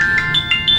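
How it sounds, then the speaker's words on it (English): An alarm tone beeps repeatedly, loud and close, in short bright pulses that step up in pitch, with no one speaking over it. "that's my alarm!"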